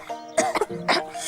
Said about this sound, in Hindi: खांसी निकल जाती है।